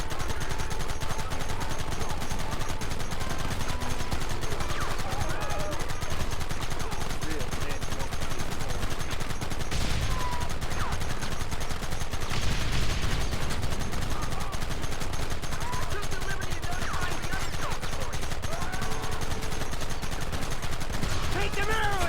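Gunfire in the Red Dead Redemption video game, dense and continuous shots and rapid bursts over a loud, busy battle mix, with voices shouting in places.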